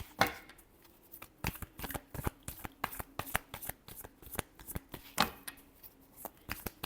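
Deck of tarot cards shuffled by hand, giving a quick run of crisp riffling slaps and flutters in an irregular rhythm, close up and soft, with no voices over it.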